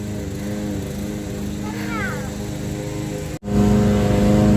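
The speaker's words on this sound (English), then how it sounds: "It's getting noisy here because my husband is cutting the grass." A lawn mower drones steadily nearby while cutting grass in a garden, a loud continuous engine hum that briefly cuts out and then returns stronger.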